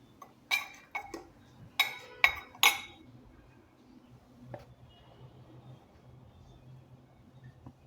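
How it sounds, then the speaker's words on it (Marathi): Sweet potato chaat mixed in a bowl, a handful of sharp metallic clinks as a spoon strikes the dish in quick bursts, then only faint quiet handling in a still room. "आणि मिक्स करून घेऊया."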